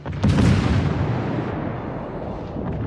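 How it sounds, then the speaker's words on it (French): Battleship in World of Warships firing three guns at once: one deep, loud booming blast that rolls into a long rumbling decay, with no talk. "Donc là maintenant je vais tirer 3 canons. Enfin que 3 obus en même temps."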